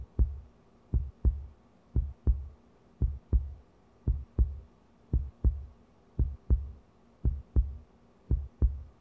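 A heartbeat heard through a stethoscope thumps in a steady, even rhythm, about fourteen muffled lub-dub beats that are close, low and alone.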